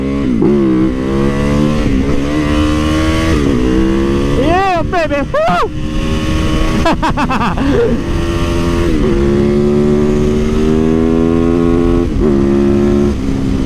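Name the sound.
motorcycle engine revving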